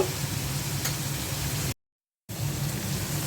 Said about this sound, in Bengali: পেঁয়াজের সাথে টমেটোটা ভালো করে ভেজে নিচ্ছি।